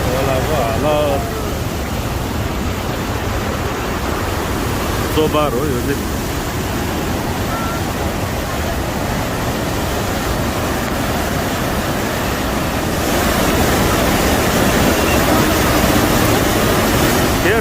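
A flooded river in Nepal rushes with a loud, unbroken roar of churning water, close and steady throughout, while someone speaks over it.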